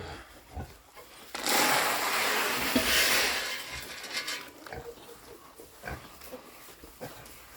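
Pigs grunting and squealing at close range at feeding time in a barn, with a loud burst of noisy commotion in the middle that gradually settles into scattered snorts.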